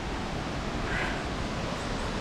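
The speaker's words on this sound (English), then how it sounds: "Here is the waterfall, y'all." A 95-foot waterfall reached on a solo day hike gives off a steady, rushing roar of falling water, continuous and fairly loud, with a broad, even wash of sound that never breaks.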